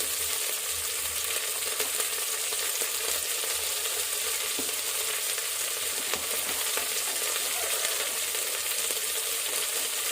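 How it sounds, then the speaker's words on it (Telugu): Okra curry frying in a pan gives a steady, dense sizzle with light stirring throughout, fairly loud and close, with no voices. "ఉప్పు, ఇందులో వేగనిద్దాము"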